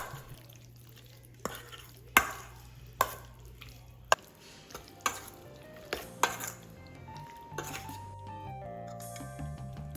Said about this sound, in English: Using a spoon, I'm going to gently crush the shrimp, making sure they are evenly coated and seasoned to perfection